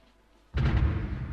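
Artillery fire in the Supreme Ruler Ultimate strategy game: after near silence, a single sudden deep boom rolls out loud and close, with no talk over it.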